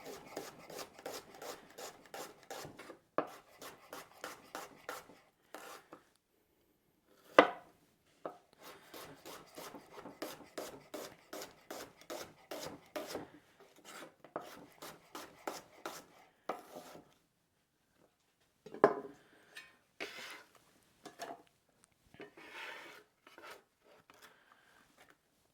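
Yellow onions sliced into half rings with a knife on a cutting board, rapid rhythmic chopping strokes in bursts separated by short pauses, close and clear with no talking.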